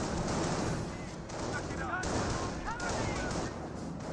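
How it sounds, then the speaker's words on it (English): Dense battlefield gunfire and explosions in the Company of Heroes strategy game as a rifleman squad comes under heavy fire, a continuous rumbling roar of shots with faint voice callouts mixed in. "But it's there on the Rifleman squad, receiving a significant amount of fire."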